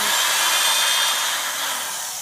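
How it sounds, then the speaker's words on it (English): A power drill bores a small hole during a costume-prop build for Aatrox wings, giving a brief high whirring whine that holds steady and fades slightly toward the end. "We are drilling a little hole."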